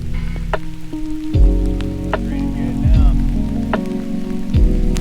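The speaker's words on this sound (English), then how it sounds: "Look at all this rain, man." Heavy rain pours steadily at Lees Ferry in Marble Canyon, Arizona, during a sudden storm, a dense continuous hiss with heavy drops drumming on nearby surfaces, loud and close, and a few low thumps.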